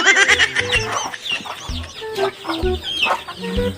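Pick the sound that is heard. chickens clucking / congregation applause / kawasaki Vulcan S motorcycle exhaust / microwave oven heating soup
chickens clucking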